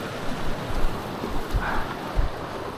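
Calm sea at a fishing spot, soft low surf and gentle wave wash with light wind buffeting on the microphone, no voices.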